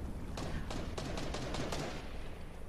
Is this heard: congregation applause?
no